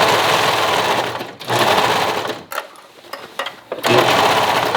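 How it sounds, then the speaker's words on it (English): A sewing machine stitches through the 3/8 seam of a lined tank top, its motor whirring in steady sustained bursts broken by short pauses, close and loud with no talking. "I'm going to stitch through. Again at the 3/8 seam."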